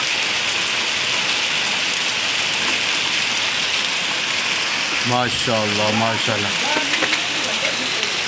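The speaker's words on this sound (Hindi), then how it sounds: "माशाल्लाह, बहुत ही ज़बरदस्त यानी बारिश हो रही है हमारे पास आज" Heavy morning rain pours down around a home in a dense, constant hiss that fills the whole stretch, and a voice briefly speaks over it partway through.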